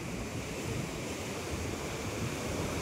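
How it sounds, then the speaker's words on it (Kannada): Water rushes forcefully at Chikka Devaraya Sagara near KRS, a steady, loud, broadband roar with wind buffeting the microphone and no voices. "ನೋಡಿ ಎಷ್ಟು ಫೋರ್ಸ್ ಆಗಿ ಹೋಗ್ತಿದೆ ನೀರು ಅಂತ"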